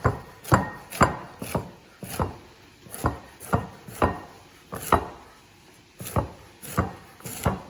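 A knife finely chopping raw cauliflower on a board, a quiet, close series of about fifteen crisp, evenly spaced chops with no talking.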